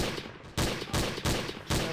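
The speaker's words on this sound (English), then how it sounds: "There's someone shooting at me." Rapid bursts of gunfire in the game GMOD Trouble in Terrorist Town, four loud, harsh volleys in quick succession with short gaps between them.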